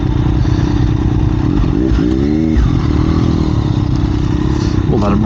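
A 2021 Triumph Daytona 765 Moto2 motorcycle with Ohlins suspension being ridden nearby, its engine droning steadily throughout with a brief rise in revs, while someone talks over it.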